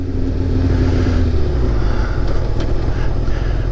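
A motorcycle cruises through a residential neighborhood with a steady, loud engine drone and heavy wind rumble from close up, no talk.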